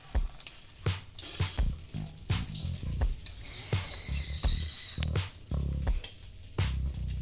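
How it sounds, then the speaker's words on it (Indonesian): Steady crackling sizzle of egg-coated spicy tempeh patties frying one by one in oil, punctuated by repeated clinks and scrapes of a utensil against the pan. "Kita goreng satu persatu."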